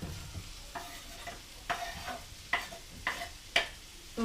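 Sliced onions, added all at once, sizzling in oil in a wok, a steady close frying hiss with sharp scraping stirring clicks at a loose rhythm, with no talking.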